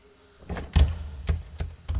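A locked door in the horror game At Dead of Night rattles and thunks several times in quick irregular knocks, close and fairly loud against a quiet background.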